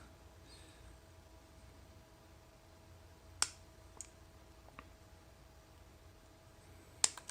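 Metal snips cut through excess Cat6 network cable while it is being wired to a jack, giving a few sharp, quiet snips spaced over several seconds against a faint background hum.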